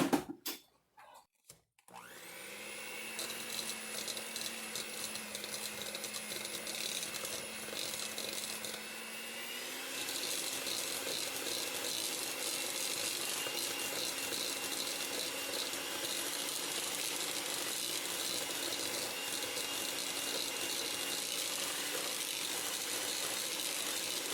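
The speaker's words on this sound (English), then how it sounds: "we're going to cream this together with the electric mixer" An electric mixer creams cookie dough for a cornmeal cookie recipe. It starts with a few clunks, then gives a continuous whirring drone that steps up to a faster, louder speed about halfway through, with no voices.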